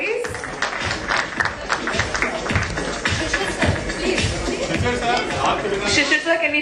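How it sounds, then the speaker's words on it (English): An education summit audience claps steadily for a panel guest, dense applause mixed with crowd chatter and murmuring voices, continuing loudly throughout. "Can we give him a huge round of applause,"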